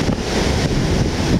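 Typhoon swell surf breaks at Sendai Shinko beach under a northeast wind, a loud, rough wash of waves heavily mixed with buffeting wind noise on the microphone.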